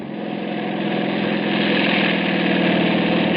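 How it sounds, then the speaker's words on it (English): A motorcycle engine rumbles steadily and grows slightly louder as it nears, with a continuous throaty drone and no voices. "See a motorcycle coming."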